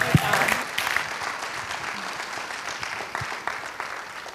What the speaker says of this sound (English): One round of applause again.